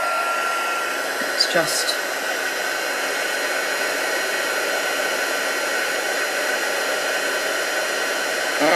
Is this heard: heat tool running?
yes